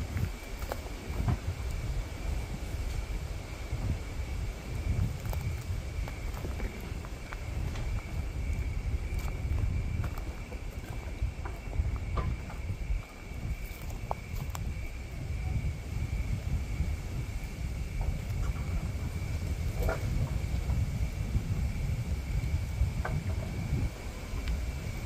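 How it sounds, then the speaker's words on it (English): Wind gusts roar steadily through trees at night, with rustling and occasional knocks and creaks under a constant high insect-like hiss. "It is windy out here tonight. That's what's making the trees go kaflump, kaflump."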